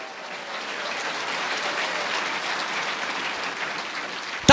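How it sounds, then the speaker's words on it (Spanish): A church congregation applauds loudly and steadily, a dense wash of clapping that fills the whole stretch at an even level without pause. "Fuerte aplauso, iglesia de Cristo."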